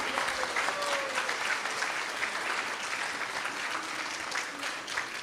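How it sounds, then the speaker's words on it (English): Applause for the cooks and their team at a Sunday Feast gathering: a moderately loud, sustained patter of many hands clapping, steady across the whole stretch, with a faint voice briefly heard early on. "So if we can get a big round of applause for all of them."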